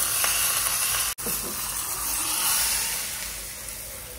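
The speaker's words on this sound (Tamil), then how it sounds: "சட்னிக்கு கடுகு, பெருங்காய பொடி, கொஞ்சம் கருவேப்பிலை," Mustard seeds, asafoetida powder and curry leaves tempering in hot oil for chutney, a loud continuous hiss and sizzle close up, one abrupt momentary drop early on, no talking.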